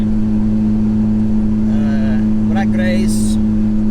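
A Nissan GT-R idles with a deep, steady engine drone up close at a drag race lineup against a Lamborghini Gallardo, while a voice talks over it.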